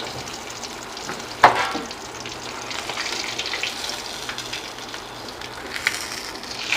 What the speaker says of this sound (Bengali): মাছটাকেও খুব ভালো করে ভেজে নিচ্ছি